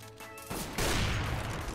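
Gunfire in CS:GO, a sharp burst of shots cutting in midway and continuing as a loud, dense rattle of rapid fire to the end.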